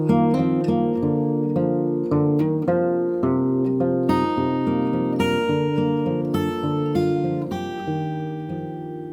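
Fingerstyle acoustic guitar plays a solo arrangement of a song, picked bass notes and ringing chord tones in a steady flowing pattern, close and clear, with no voices over it.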